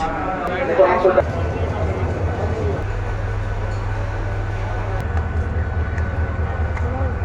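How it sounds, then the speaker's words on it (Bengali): Steady low rumble of a moving Turag passenger train out of Dhaka Kamalapur, heard from inside a carriage, with brief voices early on and the drone shifting pitch as the train runs. "তুরাগ ট্রেনের ভিতরে আমরা এখন রয়েছি।"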